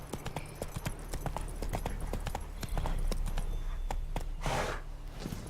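Roach the horse gallops in The Witcher 3, a quick rhythmic run of hoof clip-clops close by with soft breathy sounds and a whooshing swell near the end.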